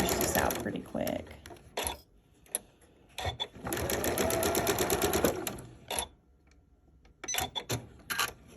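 A sewing machine stitches a seam on a Double Wedding Ring quilt in several short, rattling bursts separated by quiet pauses, close and fairly soft.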